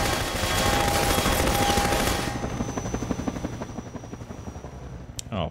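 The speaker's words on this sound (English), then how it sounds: "Pay attention to where the helicopter is so I should know when to run." A helicopter drones loudly in Half-Life 2, its rotor roar dominant at first and then fading into a rapid pulsing chop, with a brief burst near the end.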